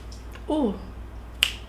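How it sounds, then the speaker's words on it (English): A perfume spray bottle gives one quick, sharp spritz close by, after a brief hummed vocal sound and a quiet pause. "so let me just spray it on"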